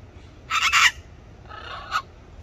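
Birds at Flamingo Gardens, Florida, give two short raspy calls, the first louder and the second fainter, close by with quiet between them.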